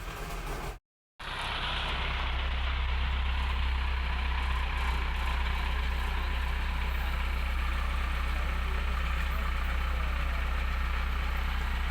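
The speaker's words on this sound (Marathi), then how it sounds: "हे पहा, अशा प्रकारे आपली वडाप असते" A shared jeep used as a local passenger vehicle idles steadily, a low continuous engine rumble that holds even throughout, with a brief dropout near the start and no talking.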